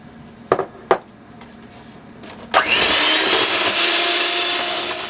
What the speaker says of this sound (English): I'm going to add some more sugar and start to blend.